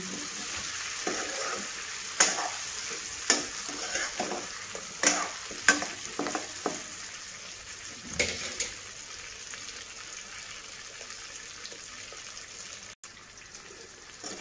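Pieces of greater yam fry in a pan with a steady sizzle, punctuated by several sharp stirring scrapes and clatters early on before the hiss settles into a quieter, even crackle with no talking.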